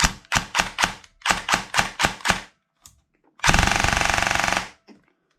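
A TM G3 SAS airsoft electric gun with an old motor fires up close in short semi-auto-style bursts, about nine rapid pops in two groups, then a single sustained full-auto burst of roughly a second.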